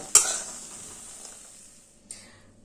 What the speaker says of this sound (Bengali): বড়িটা তেলে ভেজে নেব গ্যাসের ফ্লেমটা লোতে করে বড়িটা লাল করে ভেজে নিয়েছি